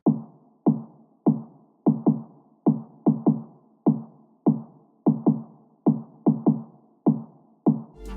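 A future bass snare pattern programmed in an Ableton piano roll plays alone: a steady run of punchy snare hits with short decaying tails, some spaced evenly and some doubled, fairly quiet and close.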